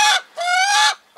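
Hens let out loud, close squawking clucks, a short call followed by a longer drawn-out one, with a new call just starting at the end.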